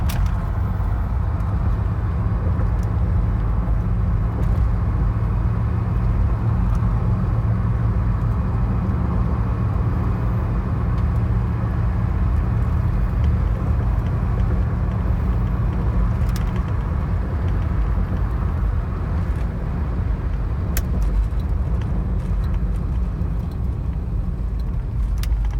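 A 1978 Mercury Cougar XR7 cruising at about 50 mph gives a steady, continuous low engine and road drone with rumbling tire noise, unchanging throughout and with no one talking.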